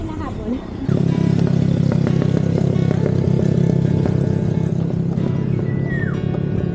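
A motorized bicycle engine revs loudly and steadily under Filipino riders' chatter on a group ride, a strong continuous buzz kicking in abruptly near the start and holding to the end.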